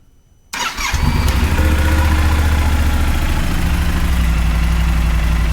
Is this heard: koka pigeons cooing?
no